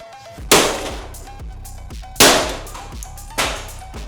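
Three heavy sledgehammer blows smashing a printer in a rage room, each a loud sharp crash with rattling debris, spaced unevenly and accompanied by quieter clattering in between, with no talk.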